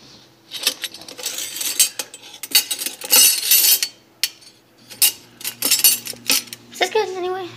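Metal spoons and cutlery clink and rattle as they are sorted and handled, in quick irregular bursts close by, with a voice speaking briefly near the end.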